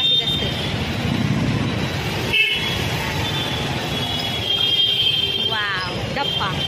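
Busy road traffic in Uran, with a steady rumble of engines, passing vehicles and car horns tooting throughout, close and fairly loud.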